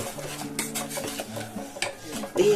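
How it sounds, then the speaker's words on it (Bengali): A ladle stirring salted noodles in a pot of water, with close metallic scrapes and clanks against the pot's sides recurring irregularly, and no voices. "এবার আমি এটাকে হাতা দিয়ে একটু নেড়ে দেবো"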